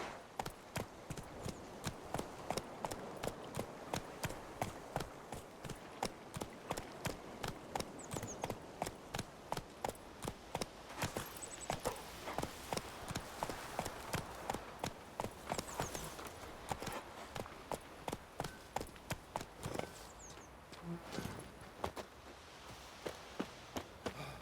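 Horse hooves clip-clop steadily at a walking-to-trotting pace while riding through Velen in The Witcher 3, a continuous rhythmic series of close, crisp beats for the whole stretch.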